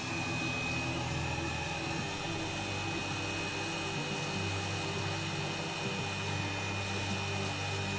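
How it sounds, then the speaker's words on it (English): A Wagner heat gun blows hot air in a steady, unbroken whoosh with a constant motor whine, close and continuous from start to finish with no voices. "So this is a Wagner heat gun."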